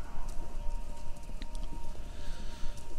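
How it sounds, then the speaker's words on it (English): Rhythmic hoofbeats of horses running in a video game, a continuous clip-clop with faint whinnies, set against a steady background hum. "Sounds like horses. Horses running? A race?"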